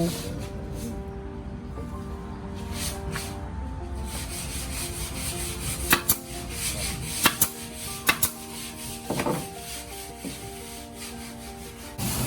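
During renovation of a traditional Thai wooden house, a nail gun fires nails into new wooden stairs, a handful of sharp, isolated bangs over steady scraping and workshop rumble.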